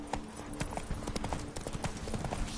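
Roach the horse in a PS4 game gallops with rapid, rhythmic hoof clip-clops, quiet but clear and close, steady throughout.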